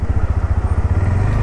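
A Bajaj Pulsar NS160 motorcycle engine runs steadily while riding, a loud, close, rhythmic low thrum pulsing evenly throughout with no talking.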